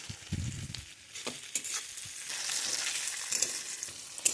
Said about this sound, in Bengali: এরপর দিয়ে দেবো আমি রসুন কুচি, এটা দিয়েও কিছুক্ষণ আমি ভেজে নেব